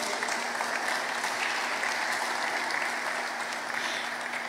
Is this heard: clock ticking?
no